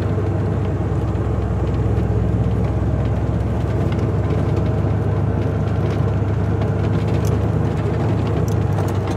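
Ford Bronco crawling across soft beach sand in four-wheel drive, its engine a steady, close, continuous low rumble with a dense broadband drone throughout and no break.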